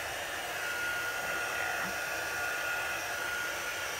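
A hair dryer blows in a steady, even whoosh to dry chalk transfer numbers, loud and close and unbroken for the whole stretch, with no speech.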